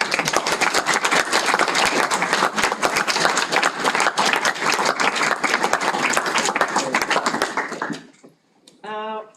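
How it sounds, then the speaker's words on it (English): A seminar audience breaks into dense, sustained applause after a master's thesis presentation, continuous for about eight seconds before it fades and a voice speaks briefly. "So, an applause for you."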